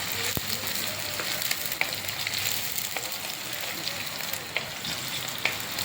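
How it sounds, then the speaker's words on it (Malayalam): Continuous sizzling of chopped shallots frying in a pan until reddish, for a curd chilli dish, with occasional light clicks of a spoon stirring close by. "ചെറുതായിട്ട് അരിഞ്ഞത് അതും കൂടെ നമുക്ക് ഇട്ട് കൊടുത്ത് ഒരു ചുമന്ന കളർ വരെ വഴറ്റിയെടുക്കാം"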